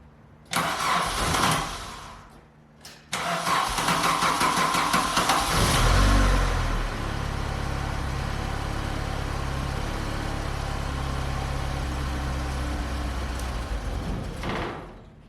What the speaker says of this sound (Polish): to teraz wsiadam i pokazuję Wam, jak auto odpala na gazie.